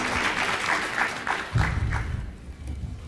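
An audience at an industry planning briefing claps in a short burst of scattered applause, moderately loud and close, with a brief low thump partway through and the clapping thinning toward the end.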